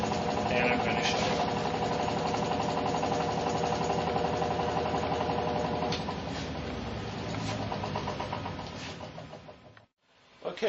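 A generator motor runs with a steady, loud mechanical hum and rhythmic knocking. Its pitch drops as it slows, and it falls briefly silent near the end. A voice may be faintly present under the machine.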